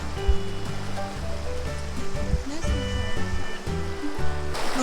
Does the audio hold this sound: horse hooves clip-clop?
no